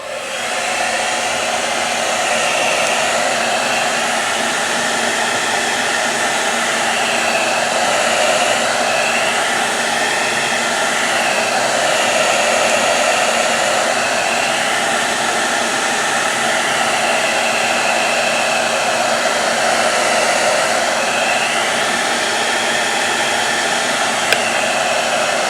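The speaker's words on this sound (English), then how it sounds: "So let me just blow dry it real quick." A blow dryer on low heat drying paint on canvas runs with a steady, continuous whooshing hum, close and loud, holding level for the whole stretch.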